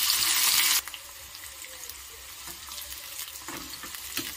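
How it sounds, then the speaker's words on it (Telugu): Spring onions dropped into hot oil set off a sharp, loud burst of sizzling that cuts off quickly, leaving a faint, low crackle and a few soft kitchen clinks. "ఆయిల్ వేడైంది కదా, ఇప్పుడు ఫస్ట్ ఇందులోకి ఉల్లాకు తీసుకుందాం"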